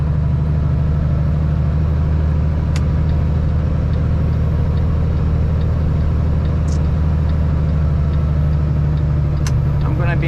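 A vehicle engine drones steadily in second gear on a narrow road near a river bridge, a constant low hum from inside the cabin, with a voice talking briefly over it.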